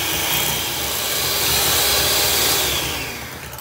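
Soft cream cheese for red velvet cake frosting is whisked with a loud, steady electric mixer whir that runs throughout and fades slightly at the end, with no talk.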